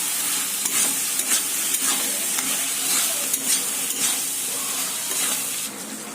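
Potatoes for a chicken curry being stirred as they fry in a pan, a loud, close, constant sizzle broken by rhythmic scraping strokes, without speech.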